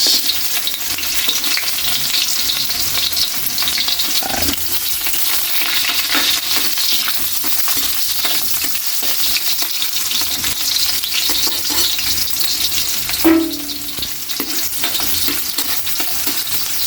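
Onions sizzle loudly in a hot pan at the start of a pork adobo, a steady dense crackle throughout with a couple of brief utensil knocks against the metal.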